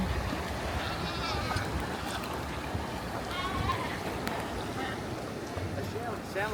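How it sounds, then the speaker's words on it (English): Sheep or goats bleat repeatedly in the distance, heard from a boat cruising along the coast of Wilsons Promontory, mixed into steady engine and water noise with people talking nearby. "They sound like sheep or goats,"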